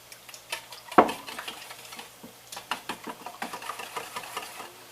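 Eggs being whisked in a bowl while dinner is made from leftovers: a steady run of quick, light clinking and scraping strokes with one sharper knock near the start, close and moderately quiet.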